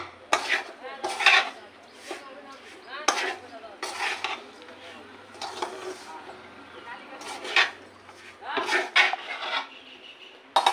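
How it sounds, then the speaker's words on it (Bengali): Repeated scraping of a spatula around a wok in uneven strokes, close and fairly loud, with occasional clinks of metal. "সুন্দর করে নাড়াচাড়া দিয়ে নিয়ে এইভাবেই করে নেবো"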